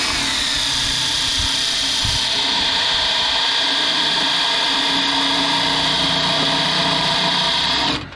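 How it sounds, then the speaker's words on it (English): A power drill grinds a self-tapping screw into thick trailer metal, a loud, strained continuous whine held for about eight seconds before cutting off abruptly. "That's some pretty stuck, thick, pretty thick metal for a self-tapper to gnaw through"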